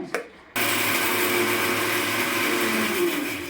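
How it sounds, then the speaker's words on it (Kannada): A mixer grinder starts up after a short pause and whirs loudly and steadily, grinding garlic, cloves and cardamom for palak rice, with no voices over the motor. "ಇವು ಇಷ್ಟ ರುಬ್ಬೋದು. ಇದು ಚೆನ್ನಾಗಿ ರುಬ್ಕೊಂಬಂದ್ಬಿಡೋಣ ಮೆತ್ತಗೆ."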